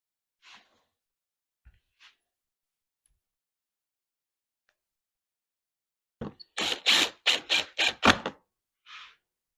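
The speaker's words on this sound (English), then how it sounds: "I'll run screws in the side to keep the lid from flopping around." Screws are driven into the side of a wooden bee swarm trap. A power driver whirs in a quick series of short pulses near the end, preceded by a few faint taps and followed by one last brief burst.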